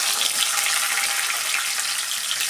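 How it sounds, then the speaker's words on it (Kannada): Chana dal, urad dal and green chillies frying in hot oil give a steady, dense sizzle with a bright hiss that stays even and close for the whole stretch, with no voices over it. "ಕಡಲೆಬೇಳೆ, ಉದ್ದಿನಬೇಳೆ ಎಲ್ಲನೂ ಫ್ರೈ ಆಗ್ತಾ ಇರಲಿ"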